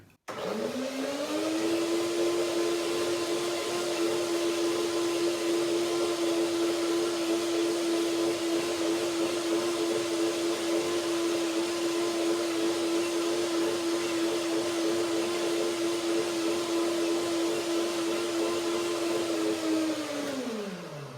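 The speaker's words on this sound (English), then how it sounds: "I'll just blend it a little bit more creamier." A blender whirs steadily while blending avocado pea salad dressing, one continuous loud motor drone that starts up, holds evenly for about twenty seconds and winds down at the end.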